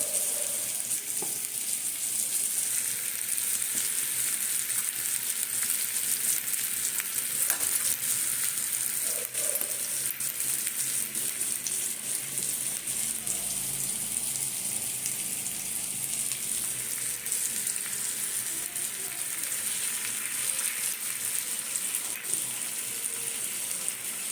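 Spice mix for amla pickle fries in a pan with a steady, moderate sizzle, broken by occasional clinks and scrapes of stirring.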